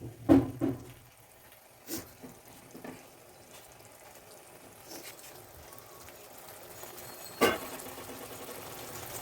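Hot water is poured into a pan of fish curry with potatoes, giving a soft splashing wash with a few sharper clatters near the start and once toward the end.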